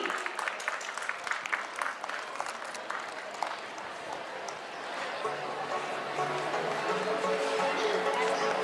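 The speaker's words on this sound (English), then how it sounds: "Let's appreciate Mahi with a big cheer." Audience at a school felicitation ceremony breaking into steady applause and cheering, a dense crowd of clapping that carries on and builds slightly, with scattered voices mixed in.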